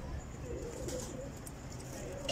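Soft, low cooing of pigeons, fairly faint and continuous over a quiet background with a few higher chirps.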